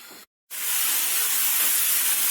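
Onions fry in hot oil in a pan with a bright, steady hiss that cuts out briefly and then returns, loud and continuous.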